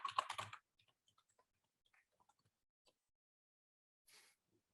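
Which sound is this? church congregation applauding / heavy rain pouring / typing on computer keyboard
typing on computer keyboard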